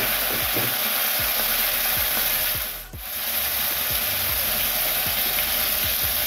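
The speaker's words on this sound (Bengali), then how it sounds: "এটাকে ভাজা ভাজা করে নেব।" Continuous hissing sizzle of prawns frying in a pan with salt and turmeric, punctuated by regular scraping strokes as they're stirred.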